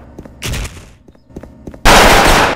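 Video game sniper rifle fire: a couple of sharp, loud shots with quick echoing tails, then a long sustained burst of gunfire at close range.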